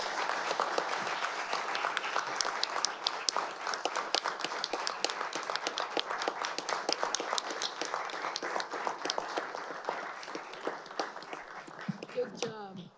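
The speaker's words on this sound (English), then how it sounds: "please join me with a round of applause for all the 2025" A council-meeting audience gives a sustained round of applause for police officers, dense steady clapping from many hands filling the room for about twelve seconds before it tapers off.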